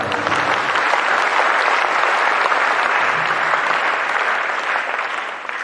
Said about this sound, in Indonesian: Tepuk tangan untuk beliau dan kita semua